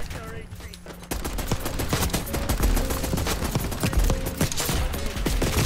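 Rapid automatic fire from the Tanto gun in Black Ops 6, with dense, loud bursts of shots running almost continuously, preceded by a brief quieter moment before the shooting starts.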